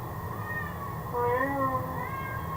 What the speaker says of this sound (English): did you hear my cat?